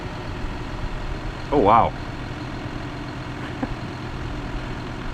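A John Deere 6175M tractor engine idling with a low, steady rumble throughout, briefly overlaid by a short exclamation from a nearby voice.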